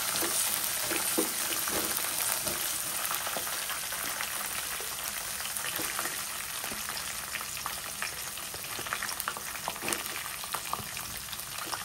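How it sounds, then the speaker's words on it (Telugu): Chopped green chillies frying in hot oil for poha made from flattened rice, a steady crackling sizzle with scattered pops throughout, close and continuous with no talking. "మనం కట్ చేసి పెట్టుకున్న పచ్చిమిర్చి వేసి కొద్దిగా వేయించుకోవాలి."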